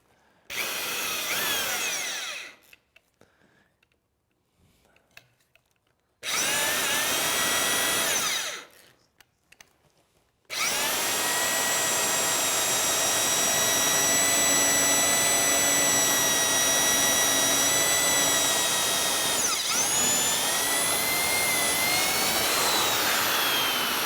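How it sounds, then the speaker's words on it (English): A power drill bores holes through wood for a bench, whirring in two short close bursts with pauses between, then a long sustained loud run until the end. "You can just stop your bit just as the point pokes through the other side, then you can finish it on the other side"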